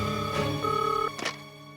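An office telephone rings in short electronic trills, a couple of bright buzzing bursts close by with a brief gap between them, no voices over it.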